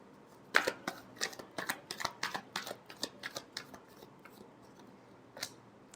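Tarot cards are shuffled in a quick series of crisp, papery riffles and snaps, close and fairly loud at first, then thinning to scattered soft taps with a final flick.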